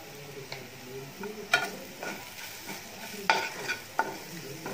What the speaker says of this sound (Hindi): बस मसाले को 2-3 बार चलाएंगे जिससे मसाले जले नहीं।